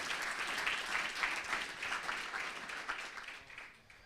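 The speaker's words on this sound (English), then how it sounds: "if you could please join me and give him a round of applause" Applause for Jaime at an association AGM in Paris, a steady room-filling clatter of many hands that holds for about four seconds and then begins to thin out at the end.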